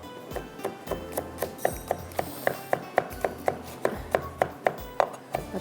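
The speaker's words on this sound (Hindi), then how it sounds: "मैं थोड़ा सा इसको बारीक चॉप कर लेती हूँ" Fresh garlic being finely chopped with a knife on a board while making vegetable fried rice: rapid, steady, crisp taps, about three or four per second, close and clear with no talking.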